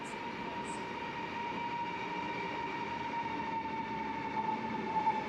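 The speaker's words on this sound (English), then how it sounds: "We were only on the platform for 10 minutes or less before this train rolled up." A train rolling up to a platform at Amsterdam Central Station, a steady low rumble with a sustained mechanical whine, fairly quiet and even, with no voices.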